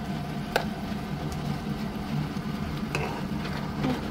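Fish pieces coated in turmeric and salt spice paste are stirred and fried in a pan, a soft continuous sizzle with a few sharp scraping clicks from the utensil, fairly quiet with no talking.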